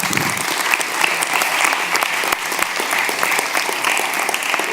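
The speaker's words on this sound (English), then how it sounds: "give him a big applause" Audience applause at a public talk event, dense continuous clapping from many hands throughout, loud and close with a slight crowd murmur.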